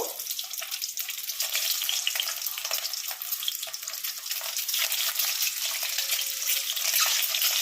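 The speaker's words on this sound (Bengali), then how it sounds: "আর ডিমগুলো একটু লাল লাল করে ভেজে নেব।" Eggs fry in hot mustard oil in a wok, giving a continuous bright crackling sizzle, close and steady with no talk.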